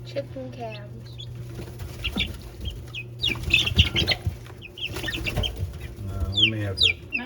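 Chickens clucking in a backyard pen, a steady stream of close clucks and chirps from several birds, with people talking quietly alongside and some wing flapping.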